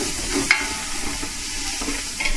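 Collard greens cooking down in butter with onion in a pan over lowered heat, a loud, close, continuous sizzle and crackle with a few quick stirring clicks, no talking.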